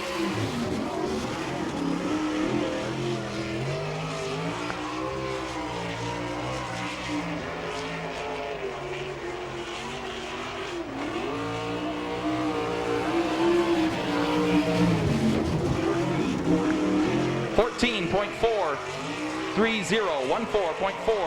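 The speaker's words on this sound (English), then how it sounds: "the first lap for Lee Jacobs in car 2" Race car number 2 on a qualifying lap at Fremont Speedway, Ohio, during an All Star Circuit of Champions night. A loud, steady engine roar holds throughout, swelling near the end, with an announcer talking over it.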